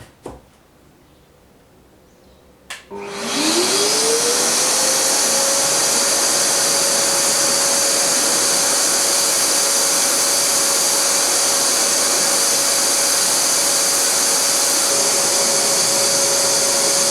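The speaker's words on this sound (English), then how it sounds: "the clean air will get sucked up into the vacuum cleaner" A homemade dust collector driven by a vacuum cleaner switches on after a quiet moment and then roars steadily, close and loud, with a steady whining tone that rises as the motor spins up and then holds.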